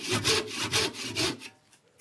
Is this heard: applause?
no